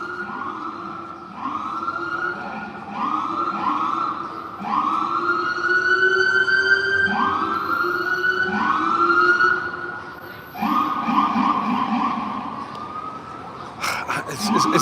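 An ambulance siren wails in repeated rising and falling sweeps, loud and steady, continuing for several cycles.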